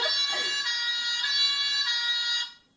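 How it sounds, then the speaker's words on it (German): A toy fire engine siren built into a children's book wails loudly and steadily for about two and a half seconds, a shrill electronic tone that starts abruptly and stops with a quick fade, heard on its own. "Als Erstes wusste ich, habe ich schon mal nicht gecheckt, dass hier eine Sirene dabei ist."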